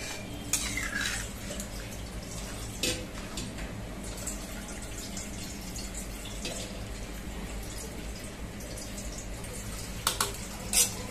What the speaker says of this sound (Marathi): आपण हे ना जे बटाटे किसून घेतलेले हे परात आणि हे कुकर ते सगळं धुवून याच्यात टाकणार आहे.